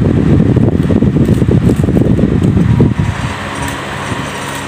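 An electric fan runs right beside the microphone, a loud rumbling whir with buffeting air that drops to a quieter hum for the last couple of seconds.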